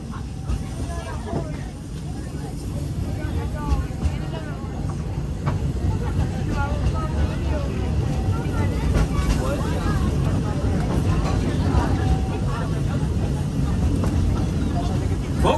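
The Walt Disney World Railroad train at Magic Kingdom rumbles steadily along its track with continuous low mechanical noise and rattling, while an announcement voice talks over it.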